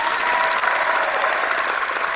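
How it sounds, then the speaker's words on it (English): A brief burst of steady applause for two British boxers after their knockout wins, dense and even before cutting off abruptly. "we must give both British fighters a round of applause"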